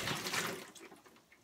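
Water pours out of a container onto a table, a brief, soft splashing gush that trails off into faint trickling and drips, heard up close and alone.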